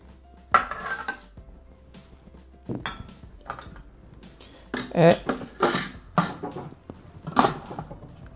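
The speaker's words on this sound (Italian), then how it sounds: "Aggiungiamo il riso." Rice is tipped into a Thermomix TM6 bowl for mushroom risotto, making a series of close clinks, clatters and a brief rattling pour, with quiet handling noises between the bursts.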